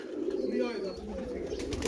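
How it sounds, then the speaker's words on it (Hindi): A pigeon coos softly up close in a low, throaty warble lasting about a second, with a voice speaking nearby. "ले दोस्तों ये कबूतर है"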